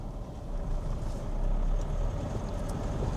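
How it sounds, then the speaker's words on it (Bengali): A 2025 JAC T8 pickup pulling hard in second gear under full throttle, a steady broad engine roar with low rumble and a faint turbo whine rising on top, close and continuous throughout. "spool, turbo spool,"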